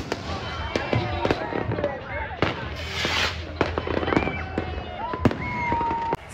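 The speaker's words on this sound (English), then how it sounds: "But then the fireworks went off" New Year's Eve fireworks in Gambia give off sharp cracks and bangs at irregular intervals, along with whistling rockets that rise in pitch. The display sounds fairly close, and voices can be heard throughout.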